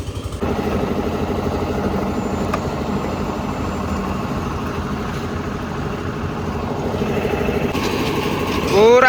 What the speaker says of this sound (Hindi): कंस्ट्रक्शन का काम चल रहा है, साउंड तो आना है